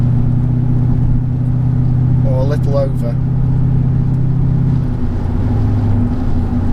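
A Mercedes-Benz E55 AMG W210 with a Kleemann 55-K2 supercharger and a misfire fault drives along, its steady low engine drone running throughout while someone talks briefly over it.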